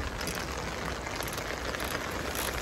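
Heavy rain falling outdoors during a Subaru Legacy GTB engine swap, a dense steady wash of hissing patter with no breaks and no voices.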